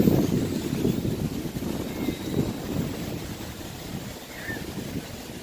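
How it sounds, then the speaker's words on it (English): Steady wind roars across the microphone outdoors while a small quadcopter drone is flown, a dense low rumble that gusts and buffets continuously without letting up. "Hard to do proximity flying when it's windy like this."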